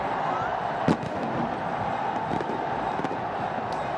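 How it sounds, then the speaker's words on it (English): Fireworks crack and pop during a cricket league final celebration in a stadium, a few sharp bursts over a dense, continuous crowd roar. "The fireworks going off here, the laser show on."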